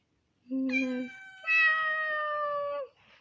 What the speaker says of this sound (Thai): เรียนเสียงแมว แมว